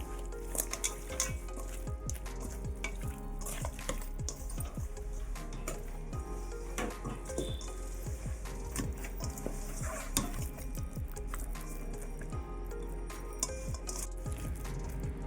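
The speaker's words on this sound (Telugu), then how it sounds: "ఇప్పుడు నీట్గా ఇలా కలుపుకుందాం చేపకి మసాలా బాగా పట్టిద్దాం" Fish pieces are worked by hand into a masala spice paste with a spoonful of oil, a steady run of wet squelching, stirring and light dish clinks, close up and without talk.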